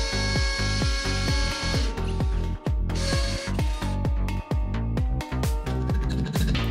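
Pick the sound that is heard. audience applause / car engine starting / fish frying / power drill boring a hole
power drill boring a hole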